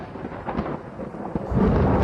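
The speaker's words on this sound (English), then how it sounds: "get rid of this thunderstorm, because nobody likes trying to fly when you're in a thunderstorm" Thunder rumbles in a Minecraft storm, a few deep low booms swelling and rolling, growing heavier toward the end with no voices.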